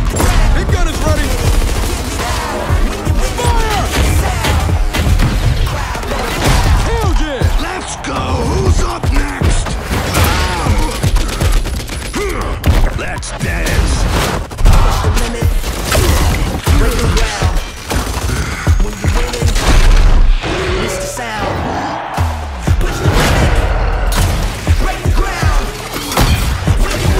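Gunfire and heavy big-gun blasts in the video game Gears 5, dense loud bursts and crashes of combat filling the whole stretch, with voices shouting over the battle.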